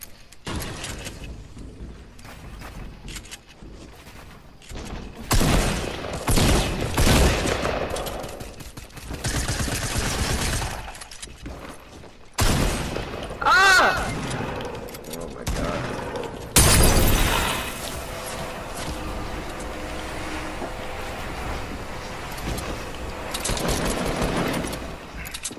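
Video game gunfire in rapid automatic bursts, loud and dense, with sections of shattering and mechanical clatter, sustained across a long stretch with brief quieter gaps.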